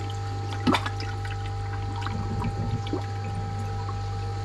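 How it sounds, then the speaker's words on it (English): Water spills and trickles out of a koi pond drum filter clogged with debris, a brief splashing gush followed by irregular dribbles over a constant low electrical hum from the pump. "somehow I'm losing a load of water down there"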